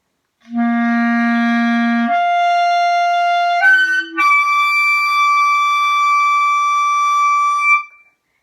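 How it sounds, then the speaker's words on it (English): A clarinet slurs upward through several steps from a low C to a high E, with squeaky, cracking transitions between the sustained notes, played solo and close. "you can hear my notes cacking and cracking right now"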